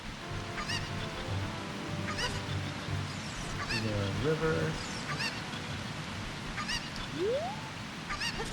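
A game chicken from Zelda: Ocarina of Time sounds off in repeated squawking calls over looping background game music and ambience, with a brief voice at the start.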